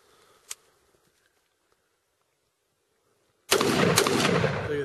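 A Noveske Flaming Pig rifle fires Ammo Works 5.56 M193 at night: a single faint early crack, a quiet pause, then a loud, sustained burst of rapid shots.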